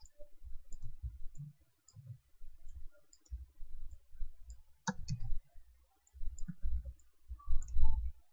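Computer mouse clicks, sharp and close, scattered irregularly across the stretch with one louder cluster near the middle, while low murmurs and handling noises sit underneath.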